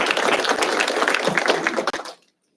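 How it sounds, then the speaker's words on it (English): Audience applause at a 2025 nursing pinning ceremony: a loud, dense wash of many hands clapping that holds steady for about two seconds, then cuts off abruptly. "So a round of applause for you guys as well."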